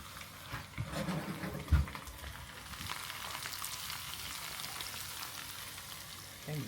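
Battered iguana pieces fry in hot oil, giving a soft, continuous sizzle and crackle at moderate distance, with a few brief bumps from stirring or handling.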